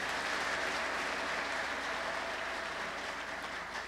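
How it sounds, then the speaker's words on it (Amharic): Sustained applause from a church congregation clapping in praise, a steady dense patter of many hands at moderate distance without pause. "እስቲ እንደገና ለእግዚአብሔር ክብር አጨብጭቡ"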